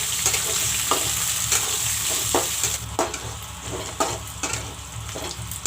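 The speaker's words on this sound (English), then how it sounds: "I have cut up some onions. This also I will put in. I will let the onions fry." Chopped onions frying in a pan for chicken curry, a loud continuous sizzle with soft rhythmic scrapes of stirring, heard close and without voices.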